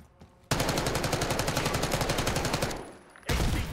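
Rapid automatic gunfire in the video game Black Ops 6, a fast steady stream of shots for over two seconds, then a brief lull before another loud burst starts, no voices heard.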